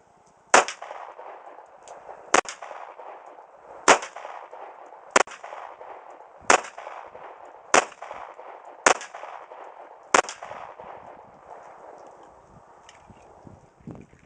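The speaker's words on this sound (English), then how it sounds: "I'm gonna try some rapid fire with this big 15-round mag" A 1911 pistol fired in rapid fire without a compensator using a 15-round magazine: eight sharp, loud shots spaced about a second apart, each with a short ringing echo outdoors, no talk.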